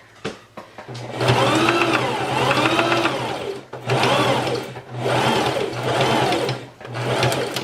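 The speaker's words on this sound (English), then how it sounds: "I will now sew over the cord using that zigzag centered over it." A sewing machine zigzag-stitches over a cord on a fabric mask, running loud and close in several motor bursts separated by short pauses, with a few clicks at the start.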